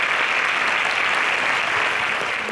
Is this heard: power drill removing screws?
no